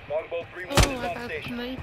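A single sharp shot cracks out in a shooter game, one loud brief impulse near the middle, surrounded by someone talking before and after it.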